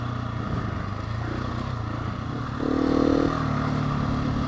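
A new motorcycle idling, then a brief blip of the throttle that lifts the engine note for about a second before it settles back to a steady hum.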